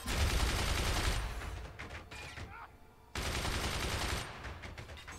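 Cannon fire in the physics-based fort-battle game Forts: dense bursts of booming shots and crackling explosions, loud and sustained, broken by a brief quieter lull before another heavy barrage.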